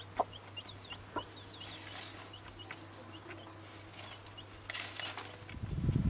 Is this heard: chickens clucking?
yes